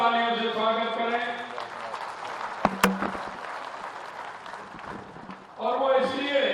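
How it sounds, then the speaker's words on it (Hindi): Loud, dense applause from a crowd at a public rally in Udaipur welcoming the Union Road and Transport Minister, rising between stretches of amplified speech and then giving way to the speaker's voice. "एक बार जोरदार तालियों से स्वागत करें"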